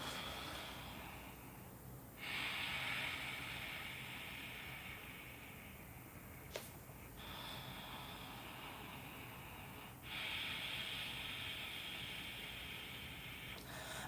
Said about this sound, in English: I practice a breathing technique called Ujjayi Pranayama.